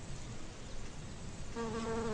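Bees buzz as they fly from flower to flower, a steady insect drone that swells near the end as one passes close to the microphone.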